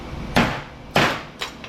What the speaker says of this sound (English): Shear it with the hammer.